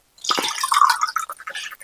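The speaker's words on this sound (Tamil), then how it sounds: "அரை கப்பு தேங்காய் பால் ஊற்றியாச்சு" Coconut milk is poured into a pot of sweet aval pongal made with flattened rice and moong dal, giving a short, close, splashy trickle that gurgles for under two seconds.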